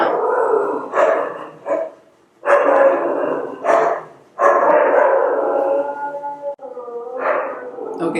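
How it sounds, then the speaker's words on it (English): Dogs bark and howl loudly and close by in repeated bursts with brief gaps, some barks stretching into drawn-out yowls. "so those are my dogs"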